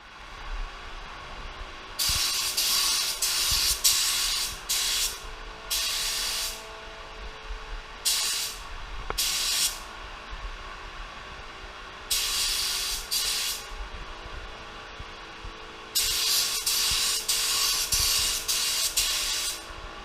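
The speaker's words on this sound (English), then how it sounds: "Let's just start spraying." A spray gun hisses as it sprays clear coat onto a metal-flake guitar body in repeated bursts of several seconds each, separated by short pauses, steady and fairly close.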